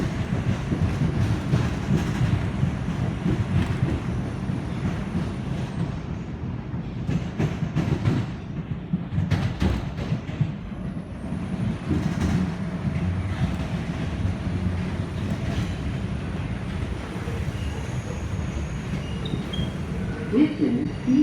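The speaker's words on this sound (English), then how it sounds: "the 5 train which we are about to ride south" A New York City subway 5 train runs south on the Dyer Avenue line, a former commuter rail line. A steady loud rumble of wheels and car noise continues throughout, with some clatter and a few brief squeals.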